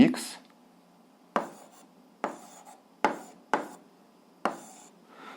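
Hand-writing algebra fractions on paper, a series of six distinct scratchy pen strokes and taps spaced irregularly, close and fairly quiet against a near-silent room.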